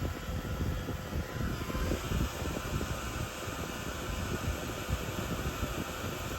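An embossing heat tool blowing hot air over white embossing powder, a steady close fan-like whoosh and roar that holds at a constant level throughout.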